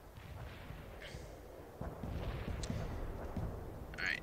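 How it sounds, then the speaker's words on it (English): Precision artillery strikes on a road in the World in Conflict strategy game: a steady rumbling barrage of distant booms and crackling impacts, with a sharper burst near the end. "Precision artillery on the road."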